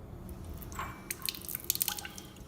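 Deionized water dripping and trickling into a container during a lab negative-control setup, with a soft splash around the middle and a run of small, close, quiet drops toward the end.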